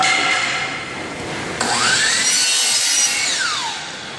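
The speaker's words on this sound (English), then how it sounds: "make a 45-degree angle cut with a hand saw or a power miter saw" Power miter saw set to 45 degrees slicing a bevel across wooden baseboard: a steady whining cut with a sharp onset partway in, rising and falling in pitch, close and loud with no talk.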